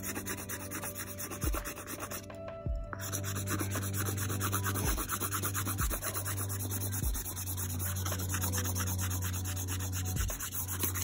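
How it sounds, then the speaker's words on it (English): Paint marker is scraped off a laptop surface in a close, steady rubbing scrape, with regular strokes every second or so over a constant background hum. "these are paint markers, so I'm probably gonna have to scrape this off"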